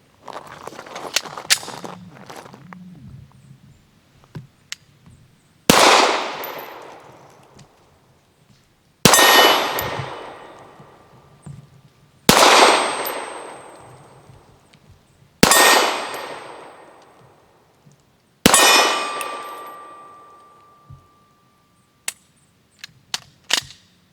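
A Canik pistol fires five well-spaced shots, each sharp report followed by a ringing metallic clang from steel targets, after some scattered clicks and handling noises.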